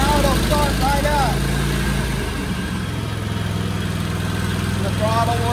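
A Kohler engine on a Cub Cadet lawn mower cranks, catches and settles into a steady running drone, with a shift in pitch partway through, close and loud.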